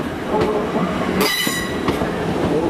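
Train wheels at Cardiff Central station give out a sharp, high metallic squeal that flares up briefly mid-clip over the steady rumble and clatter of rolling stock, with a fainter squeal following soon after.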